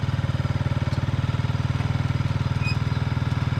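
A KTM motorcycle engine runs steadily at a fast idle, driving a homemade merry-go-round, with a loud, even low pulsing and light mechanical clatter, close and continuous throughout with no talk.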